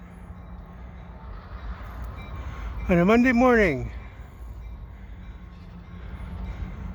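A CN GP38-2 diesel locomotive switches a couple of freight cars out of a siding onto a Lachine Canal spur in Montreal. It makes a low, steady rumble under a voice, which runs clearly for about a second midway.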